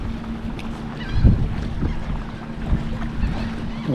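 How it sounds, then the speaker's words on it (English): Water current swirling and lapping around a sailboat tied up at an ocean marina, a steady low wash with a constant hum and a brief louder slosh near the start, with no voices. "we're tied up at the marina and this is the current"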